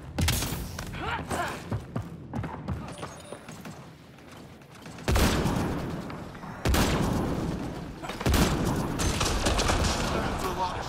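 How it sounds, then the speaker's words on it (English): Gunfire in Mass Effect: Andromeda multiplayer comes as dense, loud bursts of shots and impacts that stop and restart in waves, with a voice talking briefly among them. "That's a lot of shooting."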